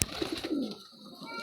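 A pigeon coos in a couple of soft, low repeated notes close by, following a sharp click at the start, with no talk over it.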